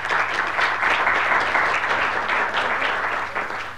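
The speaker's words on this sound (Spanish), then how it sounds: "con un fuerte aplauso, por favor" Sustained applause from a conference audience at an internet governance forum session in Bolivia, dense and steady throughout, tapering slightly at the end with no voices over it.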